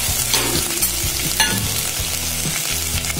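Chickpeas tumble into a hot frying pan with chopped onion, garlic, green chilli and ginger for veg shammi kababs, giving a steady loud sizzle with scraping stir strokes and a sharp clatter near the middle.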